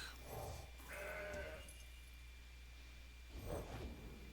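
A goat bleats in the card game Legends of Runeterra, a couple of wavering bleats over a steady game background hum, no speech.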